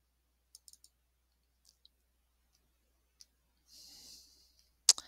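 A computer mouse gives a few soft, sparse clicks in an otherwise quiet room, with a brief breathy rustle near the end and one sharper click at the close.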